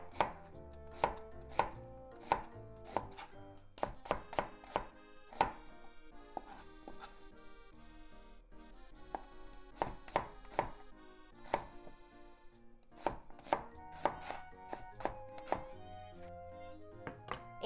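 Potato halves laid face down are sliced on a cutting board with a knife, a long run of crisp, uneven chops and thunks, close and fairly loud, with no talking.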